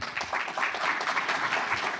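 A seminar audience at a talk on fertigation techniques gives a brief burst of dense, steady applause, many hands clapping together at close range with no voices over it.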